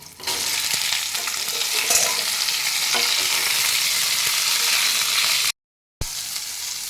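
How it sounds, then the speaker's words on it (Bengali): Raw mango pieces fry in hot oil with bay leaf and dried chilli tempering, a loud, steady close sizzle with stirring scrapes, broken by a sudden brief gap near the end before resuming. "এবার আমি আমগুলো দিয়ে দিচ্ছি।"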